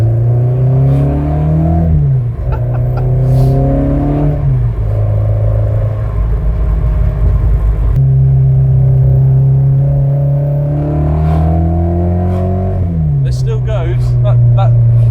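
A 1972 Ford Escort Mk1 with a 122 hp engine, heard from inside while driving, revs up and down through several gear changes, loud and close throughout, with occasional talk over the engine.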